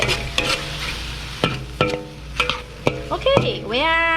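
Bell peppers, chicken and onion stir-fried in a wok over medium heat: a steady sizzle under sharp, repeated scraping clanks of a spatula, spaced about half a second apart, with a tonal ring rising at the end.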